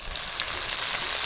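Whole mustard seeds, green chili, turmeric and ginger-cumin and chili pastes frying in oil, giving a dense, loud, close crackling sizzle that holds steady for a moment.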